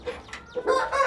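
Chickens on a farm, a white rooster and a black hen kept in a breeding room, give short clucks and a brief crowing call, close and moderately loud over a quiet background.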